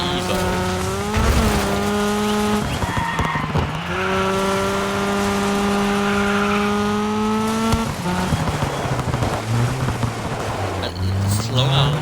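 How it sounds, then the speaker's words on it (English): A Mitsubishi Evo race car in the DIRT 5 racing game revs high with rising and falling engine tones and tire squeal as it drifts, loud and continuous, with a person talking over it. "slow down a little bit just so we can drift and trade some paint"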